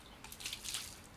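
Water splashes and trickles over a short-haired pitbull terrier being bathed, a soft continuous pouring with faint dripping, quiet and close with no talking.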